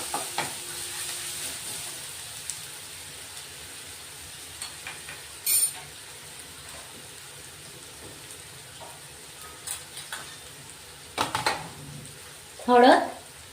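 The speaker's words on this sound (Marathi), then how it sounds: "लसूण, अद्रक, हिरवी मिरची बारीक वाटून घेतले, ते टाकून घेऊ आपण आता। चांगलं परतून घ्यायचं।" Garlic, ginger and green chili paste sautéing in a pan for a quick wheat-flour breakfast dish, a faint, steady sizzle running throughout with a few sharper stirring scrapes and clinks near the end.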